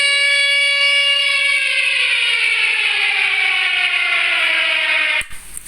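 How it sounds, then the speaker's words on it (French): A loud, steady electronic alarm tone with a slowly falling pitch sounds alone for about five seconds, then cuts off abruptly with a click. "On met l'alarme."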